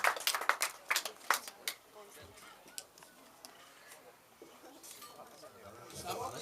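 A wedding reception crowd claps for the bride and bridesmaids after a best man's toast, a quick cluster of loud claps at the start that thins into scattered clapping and room murmur.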